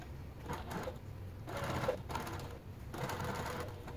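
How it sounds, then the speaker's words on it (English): A sewing machine stitches a Martini Crossover garment in short, fairly quiet bursts with brief pauses between runs, nearby and without talking. "so I'm just going to get this lined up just like this and start sewing"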